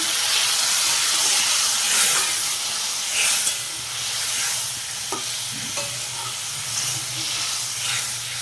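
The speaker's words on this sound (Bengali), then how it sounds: "গরম মশলা একটু জল দিয়ে দিচ্ছি" A steady sizzling hiss rises from a cooking pan after water is poured over garam masala in a parwal and cashew curry, continuous and close with faint stirring clatter underneath.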